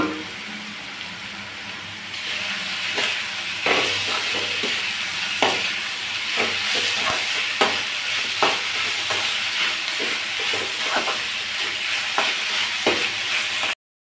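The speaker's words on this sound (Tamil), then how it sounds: "வெங்காயம் பார்த்திங்கன்னா நல்லா வதங்கி வந்துடுச்சு" Finely chopped onions with curry leaves and coriander sauté in a pan for uppu urundai, a continuous close sizzle broken by frequent scraping clicks of a stirring spoon; no one speaks.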